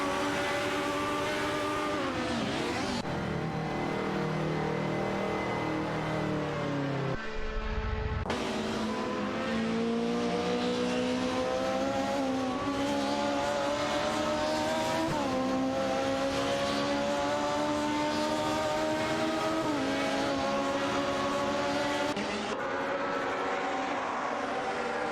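Race cars in an AI racing simulation fighting wheel to wheel, engines screaming and shifting pitch through upshifts and downshifts, loud and continuous for the whole stretch, with one brief lull and low thud partway through.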